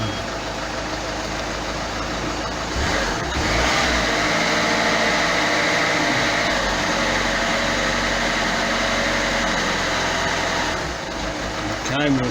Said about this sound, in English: start that now, and we'll go and crank, and we'll see what we get